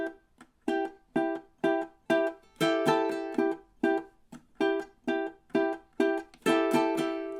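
Measures 13 and 14 played at full speed on a stringed instrument, a run of about a dozen bright plucked or bowed chords in a steady grooving rhythm, clear and alone.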